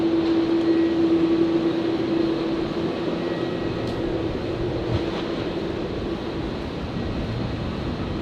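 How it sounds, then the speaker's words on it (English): An Air New Zealand Airbus A321neo lands at Brisbane after a flight from Auckland, heard as a steady, moderately distant jet roar with a faint whine that fades a little as the plane passes. "The 321 Neo coming in from Auckland."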